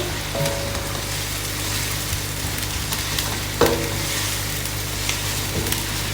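Spices and paste fry lightly in a pan for curry pakora with a steady close sizzle, broken by occasional scrapes and stirring clicks, and no voice.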